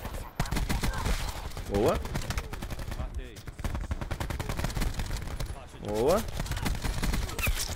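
Rapid bursts of automatic gunfire in Call of Duty Black Ops 4 on the Nuketown map, loud and repeated across the stretch, with a player talking over the shooting.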